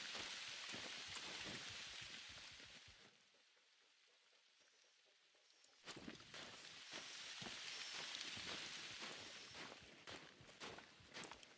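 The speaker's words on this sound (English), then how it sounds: "And it's raining." Rain falls in the hunting video game Hunter Call of the Wild on the Emerald Coast, a faint steady patter with crisp ticks and taps, briefly dropping to a hush mid-way before resuming, no talk.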